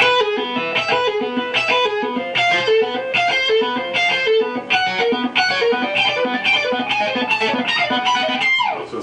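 Fast chromatic lick on a distorted electric guitar through an Orange amp, a steady stream of rapid picked notes moving up in a driving groove, loud and continuous with no talking.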